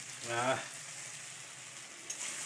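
Maggi chowmein with sauce stir-fried and mixed in a pan, a soft steady sizzle heard close up, with a short voiced sound near the start and a faint clink toward the end.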